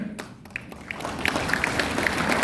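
An audience at a teachers award ceremony claps in a dense, steady patter that builds slightly and holds, with sharper individual claps standing out near the listener.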